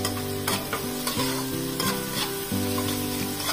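Chopped garlic fries with softened, melted tomatoes in a pan, a steady close sizzle broken by a few stirring strokes, with background music underneath.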